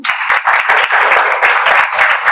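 An audience of students claps steadily through an Urdu school quiz at a government Urdu high school in Sindagi, Karnataka, with dense, continuous close-up clapping and no talking.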